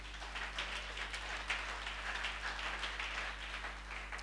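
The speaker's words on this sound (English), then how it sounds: "clap your hands and give him praise" A church congregation at a ministry conference claps hands in praise, a faint, steady patter of many hands over a low hum, with no talking.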